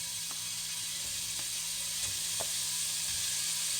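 Meatballs frying in a pan with a light splash of oil, a steady soft hiss with a few faint taps as they settle, no voices.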